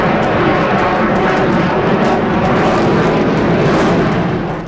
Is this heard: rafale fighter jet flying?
yes